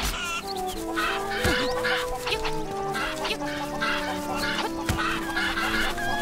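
Wild cuccos in The Legend of Zelda: Link's Awakening squawk and cluck in repeated agitated bursts, sitting in front of ongoing game music with a few sharp chirping accents.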